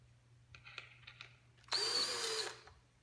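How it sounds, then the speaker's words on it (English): A power drill driving screws whirs loudly in one burst of just under a second, preceded by a few light taps and clicks over a low steady hum. "We want to drill them in a little bit so they come out the other side."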